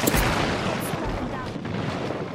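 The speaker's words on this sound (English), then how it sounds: "it's a missile" A missile blast in the battle royale game Apex Legends bursts out as a loud, booming explosion with a rumbling tail, close and heavy, over a noisy background.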